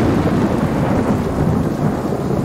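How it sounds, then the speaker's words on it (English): Steady, loud rain with rolling thunder in a video game, a dense continuous downpour with no talk over it. "now it's raining"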